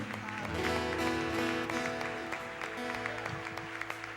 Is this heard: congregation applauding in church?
yes